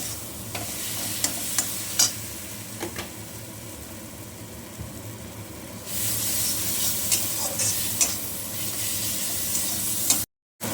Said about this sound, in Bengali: মিডিয়াম ফ্লেমে খুব সুন্দর করে কষিয়ে নেব